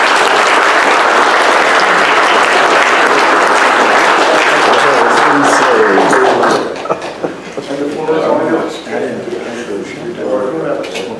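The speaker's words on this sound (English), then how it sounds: "we want to applaud Dick Flagg for his help with this project" Audience applause at an amateur radio astronomy conference, dense sustained clapping that stays loud for several seconds and then thins into scattered claps as it tapers off.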